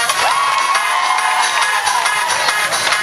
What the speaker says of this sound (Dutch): En een applaus voor jezelf.